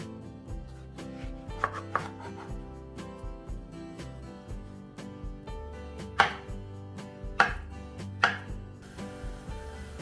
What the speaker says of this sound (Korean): 당근, 양배추, 토마토, 바나나를 적당한 크기로 썰어주세요.